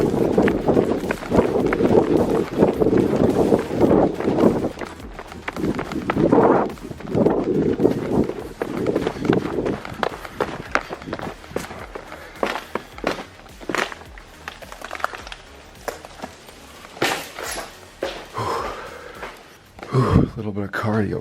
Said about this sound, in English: probably going to try to sprint across this field and get into it